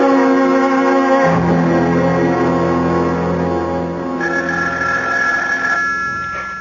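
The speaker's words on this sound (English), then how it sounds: "Do something about that confounded phone. I can't, Mama. It'll just keep ringing." An old-fashioned telephone bell rings loudly and continuously throughout, a sustained metallic jangle close by with no one talking over it.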